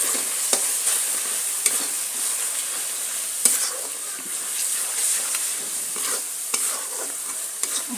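Spice masala fries in oil for a mixed vegetable curry, a constant bright sizzle with repeated scrapes and taps of a spoon as it is stirred, close and fairly loud, with no speech.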